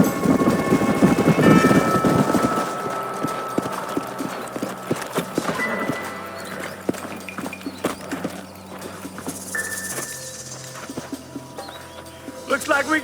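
Horse hooves clip-clop in the Red Dead Redemption video game, a steady walking rhythm that starts loud and busy, then settles under outdoor game ambience and occasional voices.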